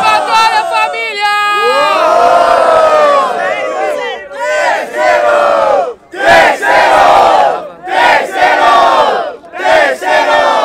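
Live rap battle crowd cheering and shouting at a Barueri freestyle event, a loud roaring mass of voices that surges in repeated waves, with short dips between bursts.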